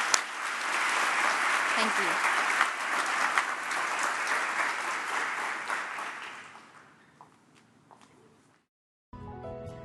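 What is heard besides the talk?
students applauding themselves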